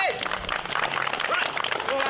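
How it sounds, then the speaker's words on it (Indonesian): Scattered hand clapping from a group of people dressed up as firefighters, brisk and uneven, mixed with overlapping chatter and shouts throughout. "Yo, tepuk tangan."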